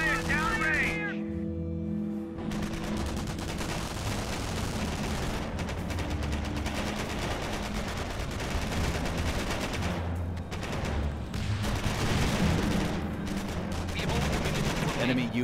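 Gunfire in the Company of Heroes video game: continuous rattling small-arms and machine-gun fire with scattered bursts over a steady battlefield din, mixed with unit voice callouts.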